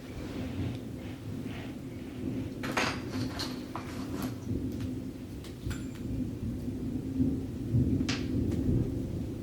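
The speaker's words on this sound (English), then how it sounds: "because we got some thunder confirmation" Distant thunder rumbling as a low, continuous roll through the whole stretch, with a few faint clinks and knocks on top and no talking.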